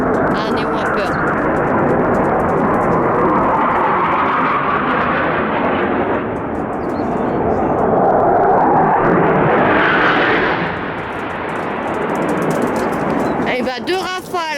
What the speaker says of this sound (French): 2 rafales qui sont passées